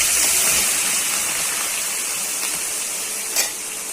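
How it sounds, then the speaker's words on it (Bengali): Eggplant pieces frying in hot oil on an electric stove for a Bengali begun bharta, giving a steady close broadband sizzle with a brief louder spit near the end. "মরিচটাকে ভাজবো, পরে বেগুনটা ভাজবো। এনে বেগুনগুলো ঢেলে দিচ্ছি।"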